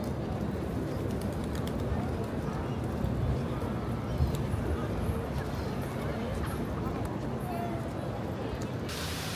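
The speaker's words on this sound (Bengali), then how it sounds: "কবুতর এবং বানর এখানে প্রচুর।" Pigeons at Batu Caves in Malaysia coo and flutter amid a busy outdoor crowd, with people talking nearby and steady background noise.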